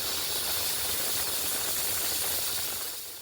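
A pressure cooker in a home kitchen, cooking liver curry, releasing steam in a loud, continuous broadband hiss that holds steady for about three seconds before easing slightly at the end.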